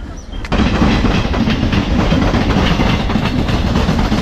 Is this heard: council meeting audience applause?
no